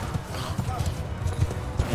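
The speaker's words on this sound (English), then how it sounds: "These horses are going to make the difference" Horses gallop in Mount & Blade II: Bannerlord, a fast, continuous clip-clop of many hooves drumming in a steady rhythm amid battle noise, with a voice talking over it.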